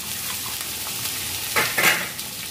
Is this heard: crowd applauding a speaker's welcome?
no